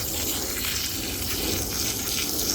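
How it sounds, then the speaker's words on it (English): Filtered water gushes steadily from a garden hose onto a mix of finished and unfinished compost, a close, continuous splashing rush with no pauses across the whole stretch. "this water that's coming out of this hose is filtered"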